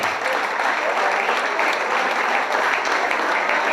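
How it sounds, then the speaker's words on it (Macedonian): Dense, sustained applause from an audience at a volleyball club's 40th anniversary ceremony in Strumica, honoring player Jasmina Pandeva; even and loud clapping with no break. "Аплауз за Јасмина Пандева."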